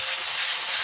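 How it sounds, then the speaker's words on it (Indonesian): A spice paste of shallots, garlic and chili frying in hot oil gives a steady, loud, close hiss of sizzling, continuous and unbroken with no voices. "seperti ini kita goreng bumbunya sampai harum"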